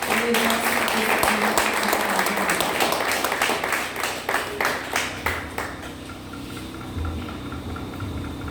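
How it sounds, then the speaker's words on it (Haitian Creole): A church congregation at a French-language service claps loudly and steadily, the applause dense at first and then thinning into scattered claps, with voices mixed in. "On va applaudir plus fort."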